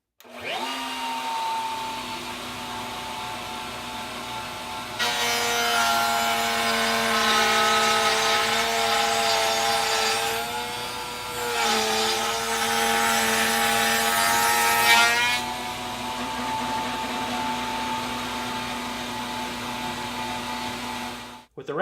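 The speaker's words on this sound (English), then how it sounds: "I'm going to route a dado 1/4 inch from the edge on the underside of the bench seat top." Router cutting a dado into the underside of a wooden bench seat top, a loud steady motor whine that deepens into a harsher, louder cutting roar for about ten seconds before easing back to the free-running whine.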